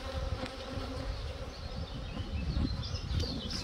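A dense, steady drone of honeybees hums close by as a colony is opened for inspection, swelling slightly in loudness toward the end with no voices.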